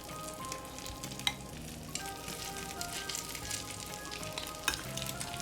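Danish fish cakes, shaped with a spoon, sizzle steadily in butter in a pan, a continuous close frying crackle with a few sharper pops and spits along the way.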